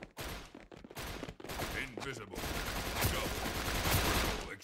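Rapid bursts of automatic gunfire in the Indonesian shooter game Wardeka Edonisia, dense and loud, running nearly continuously with a voice talking over part of it.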